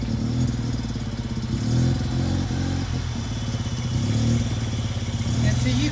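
A Mazda RX7 rotary engine fitted with a Racing Beat exhaust idles roughly and unevenly, a steady close, loud low rumble with a fluttering pulse and slight clatter throughout.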